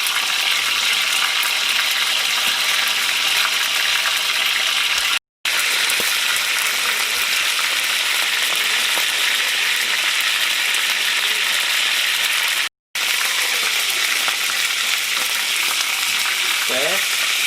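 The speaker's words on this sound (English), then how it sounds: "we're going to brown each side of this rabbit" Rabbit pieces brown in a hot frying pan, a loud, dense, continuous sizzle close up, broken only by two brief cuts to silence.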